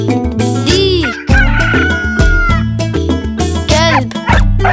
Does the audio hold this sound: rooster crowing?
yes